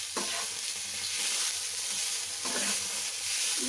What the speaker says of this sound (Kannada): ಇದನ್ನು ಹಾಕಿ ಜೊತೆಯಲ್ಲೇ ಫ್ರೈ ಮಾಡೋಣ.